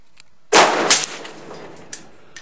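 A single M1A .308 rifle fires Federal 150 grain ammunition outdoors, one sharp loud crack followed by a decaying echo and a faint later report.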